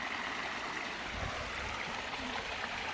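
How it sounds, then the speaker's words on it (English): A woodland stream running fast, a continuous rushing, gurgling wash of water heard alone at a steady moderate level with no voices. "I see the water running down there quite fast."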